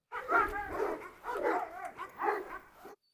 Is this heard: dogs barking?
yes